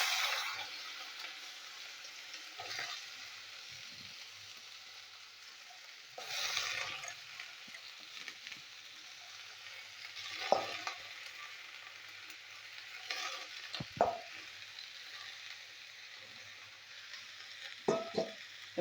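Bitter gourd and potato fry in a pan with a steady crackling sizzle throughout, punctuated by occasional louder stirring scrapes and spatula knocks.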